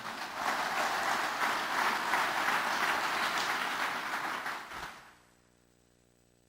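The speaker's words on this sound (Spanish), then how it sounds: "Démosle un fuerte aplauso al Señor." A church congregation claps together in a steady, moderately loud burst that fades and then stops abruptly, leaving silence.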